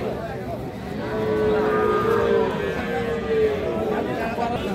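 Young heifer calves low at a cattle market, with one drawn-out moo and a few shorter ones rising over a busy crowd murmur as people talk nearby.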